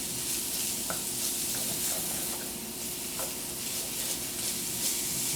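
Garlic frying in a pan for a hearty breakfast burrito, a steady loud sizzle with faint tapping and stirring clinks throughout, no speech.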